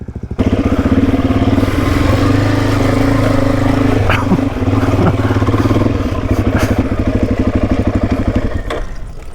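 A Suzuki DRZ dirt bike passes on an outback trail toward the top of Australia, its single-cylinder engine loud and steady throughout, with a brief rise in revs midway as it goes by close.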